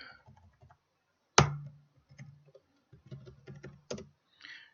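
Keystrokes on a computer keyboard while entering data in accounting software, a few scattered clicks and one sharp louder press, quiet between strokes, with no voice.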